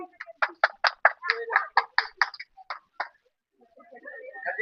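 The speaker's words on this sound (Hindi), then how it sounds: "इनके लिए भी जोरदार ताली से स्वागत करें।" A crowd claps in welcome for a guest at a village wedding ceremony, a burst of a dozen or so sharp claps over about three seconds, then fading into faint background chatter.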